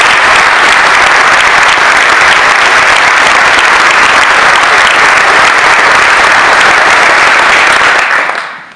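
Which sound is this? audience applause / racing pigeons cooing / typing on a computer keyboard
audience applause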